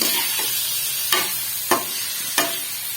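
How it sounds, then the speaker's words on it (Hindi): Chicken frying in a karahi pan for Peshawari Shinwari chicken karahi, a steady soft sizzle with three distinct scraping stirs of the spoon against the pan, close and alone. "थोड़ा सा इसको चिकन में फ्राई करेंगे"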